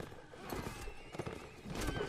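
Armoured horses galloping and neighing in the Mount and Blade Warband game during a line battle, hooves clattering in quick bursts with whinnies rising over a busy battlefield din.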